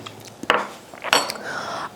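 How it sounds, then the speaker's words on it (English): Clinks and knocks as a blender lid comes off and a clean spoon is handled while making homemade peach lemonade, a few sharp metallic and plastic hits spaced through a quiet kitchen. "I'm going to remove the lid, take a clean spoon, and give it a taste."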